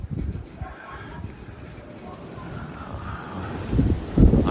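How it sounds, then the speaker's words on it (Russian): Gusts of wind buffet a house in the south at night, a rough low rumble of moving air that swells and surges louder toward the end, with no clear talking. "А слышите, какие порывы ветра здесь?"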